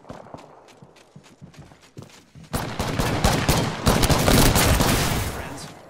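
Apex Legends gunfire: quieter, rapid shots rattle out early, then a dense, loud burst of automatic fire takes over halfway through and keeps going to the end.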